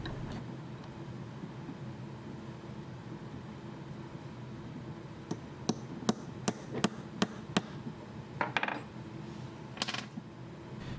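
Hammer blows flare a rivet into sheet metal: a run of about seven sharp, evenly spaced metallic taps, then a few more scattered strikes, heard over a steady low background rumble.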